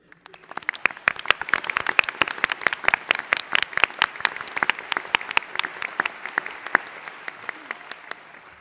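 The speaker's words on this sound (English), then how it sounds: "A round of applause." Audience applause for the team coaches at a national middle school science bowl championship match, a moderate crowd of sharp individual claps continuing steadily for several seconds.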